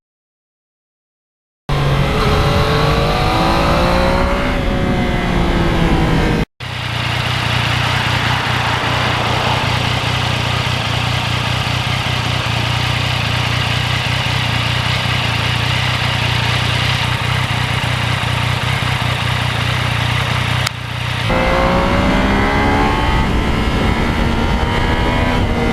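A 2020 Yamaha MT-09 with its three-cylinder engine runs loud and close, rising and falling in pitch at the start and end, with a long steady drone in the middle.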